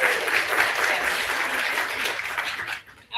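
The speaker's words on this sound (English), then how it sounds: "let's give ourselves a round of applause." An audience at an annual peer empowerment conference applauding, dense sustained clapping from a crowd that fills the room evenly before quickly dying away at the end.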